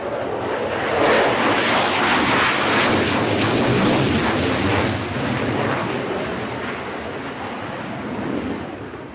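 An F-16 fighter jet roaring past in a flying display at the Farnborough International Airshow, a loud, broad engine rumble that swells as it passes and then slowly fades into the distance.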